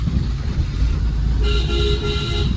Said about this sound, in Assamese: হৰ্ণ দেখিছে নাই একদম আই টুৱেণ্টি হৰ্ণ লাগি আছে